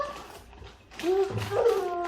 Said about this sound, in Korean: 멍멍이 어딨어? 멍멍이 어딨어 멍멍이.